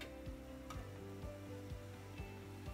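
Dry spice powders (red chili, turmeric, coriander and salt) hit almost-browned onions in a hot pan, giving a steady loud sizzle with faint stirring scrapes and no talking.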